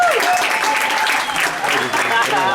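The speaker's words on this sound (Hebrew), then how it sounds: "קחו לו כפיים" Loud applause at a school graduation ceremony, continuous clapping with a voice speaking over it the whole time.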